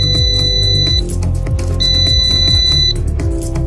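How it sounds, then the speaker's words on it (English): Loud, high-pitched electronic beeps from a drone's locator buzzer, sounding in two long bursts over a low mechanical hum. "press the left stick on the remote control to start the buzzer of the aircraft"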